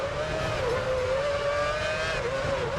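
Formula One race car engine in F1 Championship Edition on PlayStation 3, holding a steady high-pitched whine with slight wavering pitch, loud and continuous throughout without any talk.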